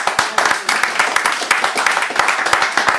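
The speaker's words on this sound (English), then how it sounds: "Please, more applause for Alison." Sparse clapping from a small audience honouring performer Alison Winch at an evening music event, a few sharp overlapping claps in an irregular patter lasting a few seconds.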